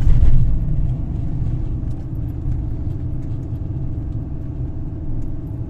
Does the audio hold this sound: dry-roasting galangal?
no